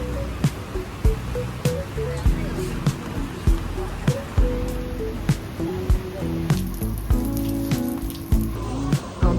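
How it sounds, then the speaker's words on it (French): Steady rain hisses in the background on Stradbroke Island, Australia, while a person talks over it, with occasional dull thumps and soft music underneath. "je ne pensais pas qu'il allait pleuvoir autant et qu'il allait pleuvoir tout court"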